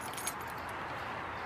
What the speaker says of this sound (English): Okay, so here are the keys.